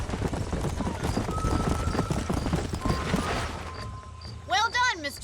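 Horses' hooves clip-clop steadily on a ranch in the Red Dead Redemption video game, with dense ambient noise and a horse whinnying loudly near the end.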